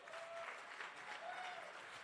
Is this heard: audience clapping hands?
yes